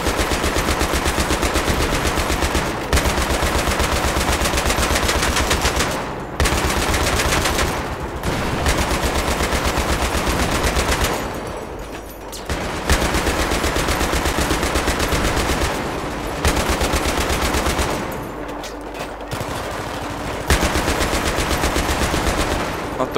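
Sustained bursts of .50 cal machine gun fire in the Battlefield 3 video game, loud rapid automatic shots in long strings broken by a few short pauses.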